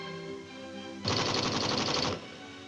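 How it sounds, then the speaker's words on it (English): A new lighter-weight general-purpose machine gun fires one rapid, rattling burst of just over a second, close and loud, over a faint steady background hum. "it has developed a new lighter-weight general-purpose machine gun, which is more effective than the light machine gun it is designed to replace"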